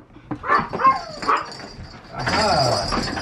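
Several excited dogs bark and yip close by in short overlapping bursts, building to a louder stretch of barking toward the end.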